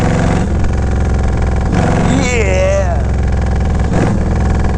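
A Yamaha Road Star 1700 Silverado motorcycle engine drones loud and steady while it is being ridden, its low rumble continuous throughout, with someone talking briefly over it.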